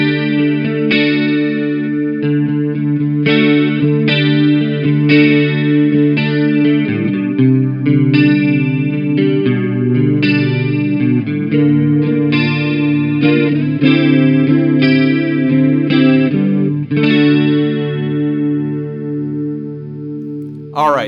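Electric guitar played through a recapped Boss CE-3 chorus pedal, clean chords and arpeggiated notes shimmering with warbling chorus modulation, close and clear, ringing phrases over about twenty seconds with no talking.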